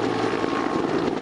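A firefighting helicopter flies over a wildfire, its rotor and engine giving a steady, loud, churning roar without any break.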